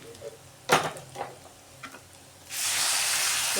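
Water poured onto roasted semolina in a pan for upma, a few stirring scrapes and clinks followed by a sudden loud, broad hissing sizzle that sets in and holds steadily, close with no speech.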